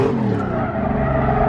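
Nearly bald tires on a Corvette Z06 screech continuously while it drifts, a loud, sustained rubbery squeal layered over engine noise, close and unbroken.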